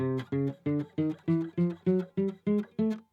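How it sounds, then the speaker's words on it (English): A piano plays a chromatic scale, a steady run of single notes climbing key by key, about ten evenly spaced keys struck one after another, clear and close. "if you hit on the piano every single key, which we call a chromatic scale"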